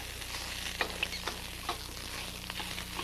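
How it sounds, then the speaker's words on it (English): Onions and garlic fry in a wok, the onions starting to burn, with a constant loud sizzle and intermittent scraping, tossing clatters from stirring throughout. "And our onions are starting to burn here."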